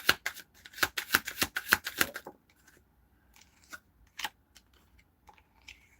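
A deck of cards is riffle-shuffled in a fast burst of crisp flutters lasting about two seconds, followed by a few scattered soft taps and card handling noises nearby.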